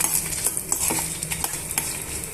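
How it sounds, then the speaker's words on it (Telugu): Peanuts and a handful of dry red chillies fried and stirred in a pan, a soft steady sizzle broken by scattered scraping and clinking taps of a spoon against the pan, with no voices. "ఇవన్నీ కూడా బాగా వేయించేసుకుందాము"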